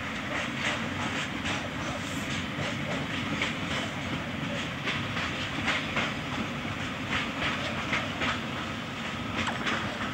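A long freight train in China rolls steadily past, its wagons producing a continuous rumble with repeated clickety-clack beats from the wheels crossing rail joints. The sound is moderately distant and keeps an even level throughout.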